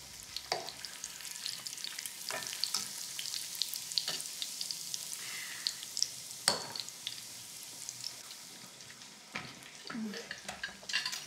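Food sizzles and fries in a pan in the video game Wanted: Dead, a steady quiet crackle broken by sharp clinks and scrapes of utensil against pan, with no talk.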